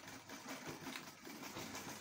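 A sewing machine stitches a child's agbada in a continuous, even mechanical whir. The motor hum is fairly quiet and runs without pause, with no voices over it.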